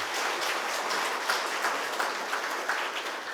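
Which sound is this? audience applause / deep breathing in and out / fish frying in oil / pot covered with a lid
audience applause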